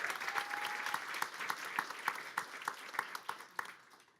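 Audience at an Android demo day at Google HQ breaking into a round of applause, dense clapping that thins out into scattered, sharper individual claps toward the end, with faint murmuring beneath.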